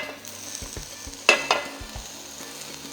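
Ground beef and pork frying in a pan, a close sizzle with spoon clatter and scraping as the meat is stirred, including a couple of sharper knocks partway through.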